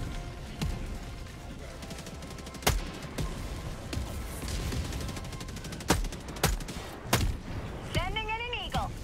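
Grenade barrage in the shooter Helldivers 2, with repeated sharp blasts and gunfire bursts at irregular intervals over a rumbling background, a voice speaking between shots.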